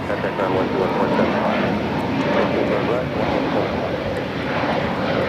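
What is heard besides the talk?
Volaris Airbus A320neo taking off at LAX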